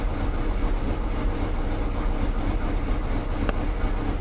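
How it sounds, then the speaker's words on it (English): A Volkswagen Vanagon Westfalia van's engine runs at a steady idle, a close, even rumble with no change in pace and no voices. "So now I've got the van running."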